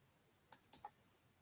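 A computer mouse gives two or three quick, crisp clicks close by in an otherwise quiet room.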